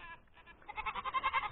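Goats bleating on a farm during afternoon chores, a wavering nasal cry that swells into several pulsing bleats at moderate distance, over faint outdoor background.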